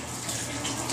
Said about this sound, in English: See it dripping right on the cans.